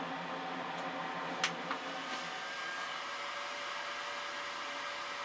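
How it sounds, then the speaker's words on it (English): A small kitchen air purifier runs on high setting, a steady close whooshing hum with a couple of faint clicks early on, otherwise unchanging and alone. "I do have an air purifier in my kitchen, just a little small one. I keep it running pretty much 24/7 on high"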